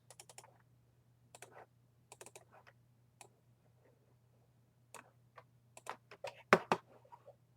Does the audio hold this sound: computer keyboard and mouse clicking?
yes